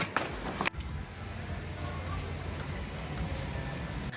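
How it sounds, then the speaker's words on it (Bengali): Steady rain falls outside in Kolkata, a dense, even patter on wet surfaces that continues evenly throughout, with a brief louder rustle near the start. "এখনো বৃষ্টি হচ্ছে"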